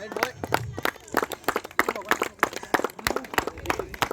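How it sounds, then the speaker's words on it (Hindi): Scattered clapping from a small crowd at an amateur cricket match, honouring the man of the match, sharp irregular claps mixed with voices talking over them. "तालियां हो जाए मैन ऑफ द मैच के लिए"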